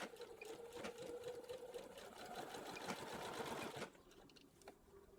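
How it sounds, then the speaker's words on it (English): A sewing machine stitches the waistband of doll capri pants, running steadily with a fast mechanical whir for almost four seconds before stopping, leaving faint quiet handling sounds. "we're going to do a stitching line here from the rough edge up to the clean edge of our waistband"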